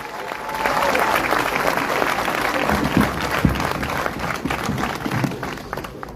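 A crowd applauds at a gathering over a public hospital in Oloron-Sainte-Marie, a dense sustained wave of clapping with some scattered louder claps and faint voices mixed in.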